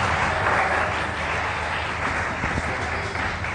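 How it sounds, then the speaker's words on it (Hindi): Applause from an audience while a turban is tied on stage, a steady wash of clapping running the whole time with voices mixed in. "हम पग बांध रहे हैं, तालियां होनी चाहिए हमारे लिए।"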